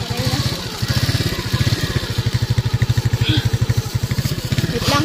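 Motorcycle engine running close by, a loud, steady pulsing putter with rapid regular firing beats, slightly varying in pace as it idles and revs gently, with faint background noise.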